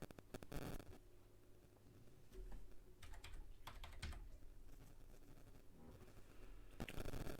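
Computer keyboard typing as a one-time passcode is entered into an online admission form, a quiet close run of light key taps that speeds up and slows in bursts, with no talk.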